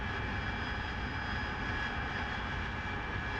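An AV-8B Harrier II jet engine in the DCS flight simulator while taxiing, a steady, even whine and roar that holds at a constant level without change.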